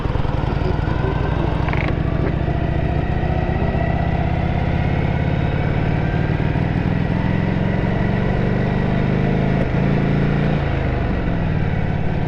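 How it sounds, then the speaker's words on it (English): An old Harley-Davidson motorcycle engine runs continuously nearby, its uneven, lumpy beat spitting and sputtering at about half throttle, with no voices throughout. "there's a little bit of spitting and sputtering at about half throttle"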